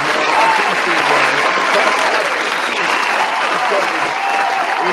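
A podcast audience bursts into sustained, dense applause, a continuous wash of many hands clapping at steady loudness for the whole stretch with no gaps.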